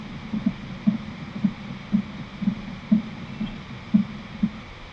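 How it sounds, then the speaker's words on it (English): Heartbeat from adrenaline pickups in a video game: a regular, soft double-thump pulse repeats about twice a second over a low hum, close and alone. "Heartbeat was from the adrenaline pickups that I picked up."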